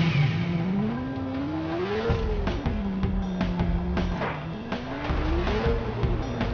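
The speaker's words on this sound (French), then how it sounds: "Oh, y'a une moto, parfait." A motorcycle engine in the video game Watch Dogs, revving steadily with rising and falling pitch as the bike accelerates and shifts, loud and continuous with scattered clatter.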